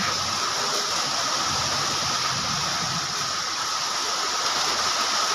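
A steady stream of water pours down into a hole behind a house, making an even, continuous rushing sound that holds unchanged throughout, close by with no talking.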